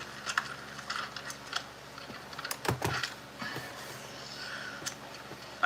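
Craft scissors snipping through rubber and plastic for a hand and rod puppet frame, a run of sharp, close clicks and crunchy cuts that come in irregular bursts, with a denser cluster of snips partway through.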